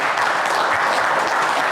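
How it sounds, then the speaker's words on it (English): An audience claps to welcome a presenter at a construction safety awareness session, a dense, even round of applause at moderate distance, brief and continuous. "please welcome him with a round of applause"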